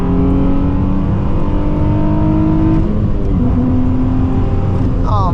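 A Nissan 350Z engine revs up loudly and close, its pitch climbing steadily through the gears in a continuous rising drone.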